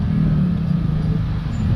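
A sand car engine sits idling nearby in the dunes, a loud steady low rumble that holds even throughout with no talking.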